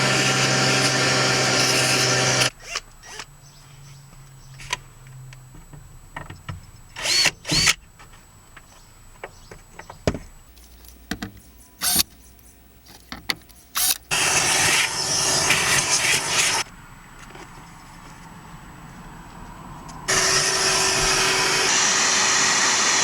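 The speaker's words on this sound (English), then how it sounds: "I'm just gonna go ahead first and vacuum all this nice and clean" A vacuum cleaner runs loudly while clearing debris around the fuel pump access panel of a Tucson. It starts and stops several times, and there are intermittent clunks and handling noises between the runs.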